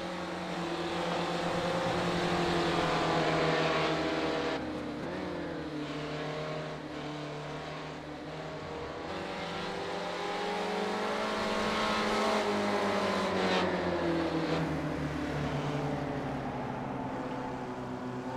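Spec Racer Ford race cars from a racing video game lap New Jersey Motorsports Park's Thunderbolt circuit, engines droning and revving continuously, pitch climbing and falling through gear changes and corners, with no talk.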